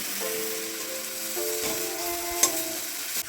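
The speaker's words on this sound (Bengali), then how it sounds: "এবারে অল্প একটু লঙ্কার কুচি দিচ্ছি" Chopped green chilies drop into a frying pan of hot oil, giving a steady loud sizzle with soft stirring scrapes and a brief clink near the end.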